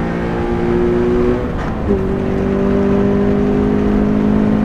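An Ariel Atom sports car on a hilly race circuit gives a steady, loud engine drone that dips briefly, as if on a gear change or lift-off, then holds a constant whirring note close to the microphone.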